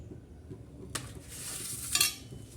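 Stirring a mixture of soaked sabudana, peanuts and potato for sabudana vadi, with soft scraping and brief clinks of utensil against a large plate, including a sharper burst of rattling near the end, heard alone.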